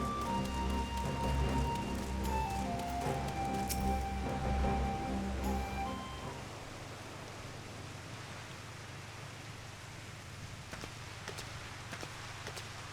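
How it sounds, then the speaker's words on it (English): Continuous rain hiss from the video game Final Fantasy XIV, at first under a louder tonal music bed that drops away after about six seconds, leaving the rain alone with a few soft ticks. "Nice rain going on here."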